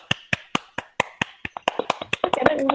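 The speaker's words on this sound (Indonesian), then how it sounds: "Ngiring tepuk tangan dulu sama-sama." A class claps together on a teacher's call, starting as a steady series of single sharp claps about every quarter second, then speeding up and thickening into a quicker, overlapping patter toward the end.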